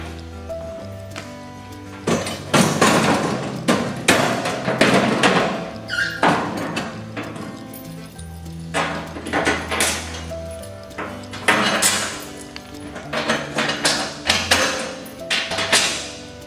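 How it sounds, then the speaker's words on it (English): Bolting a cargo box onto a Club Car Precedent golf cart, with repeated metallic clanks, knocks, squeaks and ratcheting handling of bolts and panels, loud and close in an irregular rhythm. "Now we're going to attach the cargo box with four supplied bolts."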